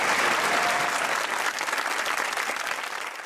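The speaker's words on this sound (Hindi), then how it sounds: "ताली होनी चाहिए इस खूबसूरत कपल की।" Studio audience applause on a Pakistani comedy talk show, a dense sustained burst of clapping heard alone that holds steady and then eases slightly toward the end.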